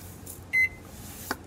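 A microwave oven gives one short electronic beep, followed by a faint click, over quiet room hum.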